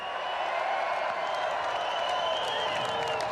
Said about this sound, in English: Also keep the claps and applause coming for the management.